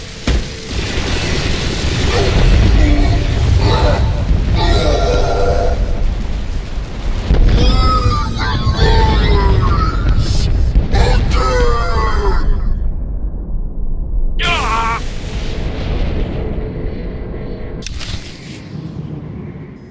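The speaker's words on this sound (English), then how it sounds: "Ships of the Eternal Fleet, open fire!" Starship fleet opening fire in Star Wars: The Old Republic, with booming explosions and rumbling blasts rolling loudly and continuously, some bursts and a faint voice in the mix.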